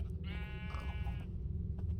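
A Minecraft sheep gives a single drawn-out bleat, clear and close over a low steady hum, with no talk.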